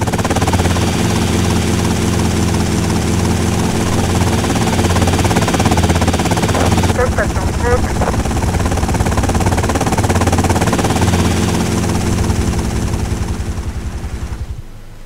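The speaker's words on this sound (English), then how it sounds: "Where's the helicopter?" Helicopter in the game Grand Theft Auto Vice City, a loud, constant rotor and engine drone that runs unbroken, changes character partway through and fades slightly at the very end, with no speech.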